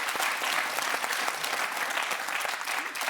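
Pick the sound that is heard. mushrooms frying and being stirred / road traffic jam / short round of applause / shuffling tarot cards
short round of applause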